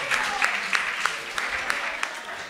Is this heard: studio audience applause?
yes